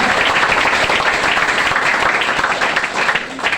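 Steady applause and clapping from an audience, loud and continuous throughout, a dense wash of many hands with no pause.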